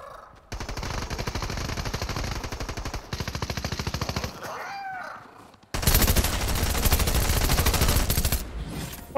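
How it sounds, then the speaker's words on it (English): Rapid automatic gunfire in the Fortnite video game, long sustained bursts of fast shots that pause briefly and then resume louder, close and dominant. "someone's shooting?"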